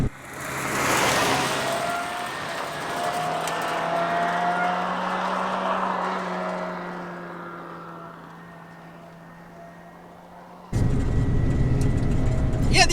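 A 1993 Nissan NX2000, a short-wheelbase car, drives with a steady engine drone and tire and road noise that rises and falls, then a louder burst of wind and road roar near the end.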